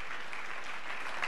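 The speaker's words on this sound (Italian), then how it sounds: "Facciamogli un applauso" A church congregation applauds during a worship service, a brief, steady wash of clapping at moderate distance with no voices over it.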